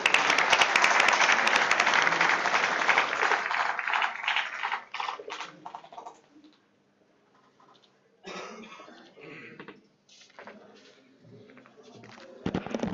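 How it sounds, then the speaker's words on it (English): Conference audience at a university infrastructure management event applauding to welcome a speaker, a burst of clapping that thins into scattered claps, then a quiet pause and a second, sparser round of taps. "Welcome with a round of applause,"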